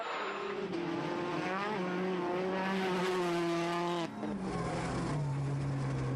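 A 2015 Ford Fiesta R5 rally car, driven without power steering, blasts along a Cyprus Rally stage. The engine whine climbs steadily, then drops after a gear change and pulls again, loud and close.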